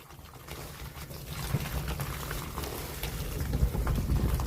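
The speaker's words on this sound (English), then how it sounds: "You can hear the water running behind the leaves." Water from a gutter trickling and splashing steadily through a leaf filter nearby, a soft continuous running flow with a low rumble underneath.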